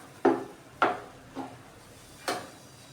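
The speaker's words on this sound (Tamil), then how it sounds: "சுகர் போட்டுட்டு நல்லா கிண்டி விட்டுக்கணும்" A spoon scrapes and knocks around a pan of semolina kesari with sugar, four distinct sharp strokes at uneven intervals, close and clear with no talking.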